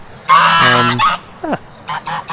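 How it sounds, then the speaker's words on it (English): Geese honk loudly and close by, a long raucous call followed by a few shorter honks in quick succession. "These geese are kind of not so nice."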